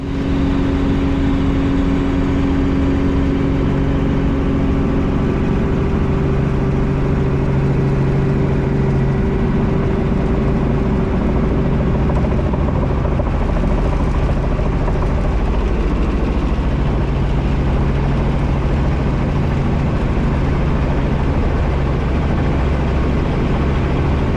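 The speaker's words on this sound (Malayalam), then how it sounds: "ഹെലികോപ്റ്റർ പതുക്കെ ലാൻഡിംഗ് ഏരിയയിലേക്ക് പ്രവേശിക്കുകയാണ്" A steady low rumble of a helicopter engine and rotor drones on continuously as it slowly descends onto a helipad over the Atlantic coast, fairly loud and unchanging, with no voices.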